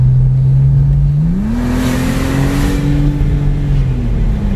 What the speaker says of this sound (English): When you hit that turbo, if you can hear this